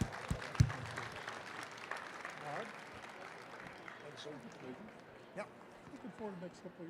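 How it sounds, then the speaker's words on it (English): Applause from a convention audience at a rural development event, steady clapping that fills the room for several seconds with a sharp burst near the start, then carries on at a moderate level. "let's give them another round of applause"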